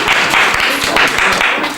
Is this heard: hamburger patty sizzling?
no